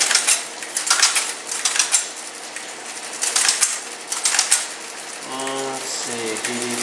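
Keys tapped on an old typesetting machine keyboard at the Baltimore Museum of Industry, a run of sharp, uneven mechanical clacks and rattles close by, then a voice speaks briefly near the end.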